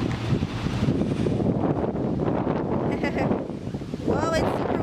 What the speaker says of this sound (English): Whoa, it's super windy.